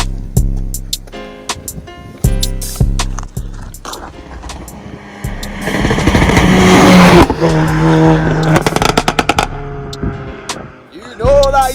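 Stage 3 Audi S1 Quattro with a bigger turbo, about 400 bhp, four-wheel drive and manual, revving loudly up close in sharp repeated blips, then a longer sustained rev and more quick bursts.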